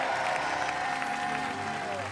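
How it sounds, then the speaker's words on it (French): A studio audience at a French Christmas charity TV show applauds steadily, a continuous wash of clapping with faint crowd murmur and a background tone. "On applaudit très fort Yannick et Claudine."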